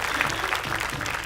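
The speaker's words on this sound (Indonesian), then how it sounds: "Boleh tepuk tangan untuk kita semuanya" Studio audience applauding at the opening of an Indonesian Quran memorization TV show, a dense steady wash of clapping hands filling the room throughout.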